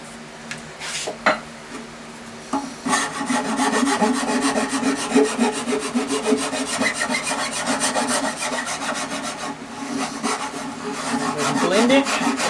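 Sandpaper rubs back and forth over a carved wooden guitar neck in quick, continuous scratchy strokes, close and fairly loud, with brief taps near the start.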